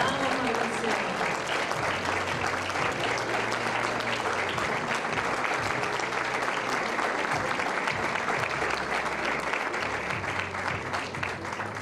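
Audience at a university event gives a sustained round of applause, loud and dense crowd clapping that continues evenly for about twelve seconds.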